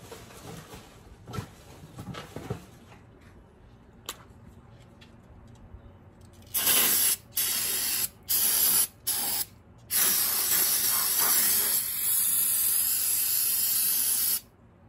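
Aerosol brake cleaner sprayed onto a Husqvarna 395XP chainsaw, heard as several short loud hissing bursts followed by one long sustained spray, all close up with quiet handling sounds before.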